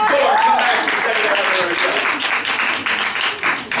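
A live show audience applauds at length, dense steady clapping throughout, with a voice briefly audible over the start.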